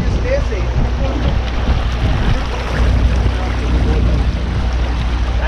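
Steady, loud rumble of a boat moving across a lake in England's Lake District, with wind buffeting the microphone and faint voices underneath.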